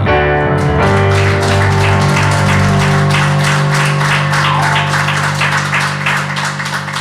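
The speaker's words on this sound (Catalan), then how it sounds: "un aplaudiment molt fort per la Roser" Loud audience applause for Roser at a reading event in Solsona, dense and sustained throughout over a lingering tonal music bed.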